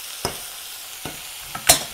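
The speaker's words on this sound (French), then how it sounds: "On va mélanger." Minced meat filling for pastels fries in a pan with a low sizzle as a spoon stirs it, giving a few sharp scrapes and knocks spaced apart, close up with no talking.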